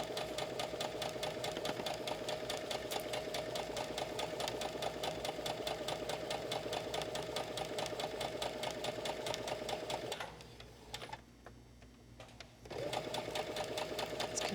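A sewing machine stitches a quilted tablet cover right beside the foam, its steady rapid rhythmic whirr running continuously, briefly stopping and dropping to near quiet, then resuming at the same pace.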